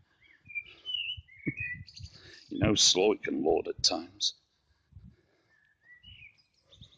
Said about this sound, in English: You might be able to hear the birds twittering away in the trees.